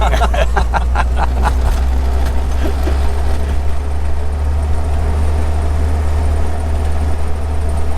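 Engine of a 1951 Willys Jeepster Phaeton pulling steadily up a grade in high gear, a continuous loud low drone with brief rattly clicks early on.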